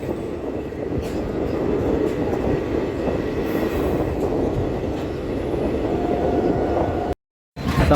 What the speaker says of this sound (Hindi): 2 मिनट के हॉल्ट के बाद अपनी ट्रेन बलिया से निकल चुकी है।